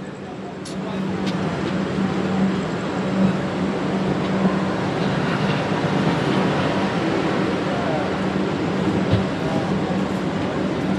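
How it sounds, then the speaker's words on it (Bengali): Steady rumbling train noise with a low drone as the Rajdhani Express (Howrah–New Delhi 12301) pulls out of Dhanbad Junction, heard continuously from on board with no clear breaks. "আমাদের ট্রেন এই ধানবাদ জংশন থেকে ছেড়ে দিল।"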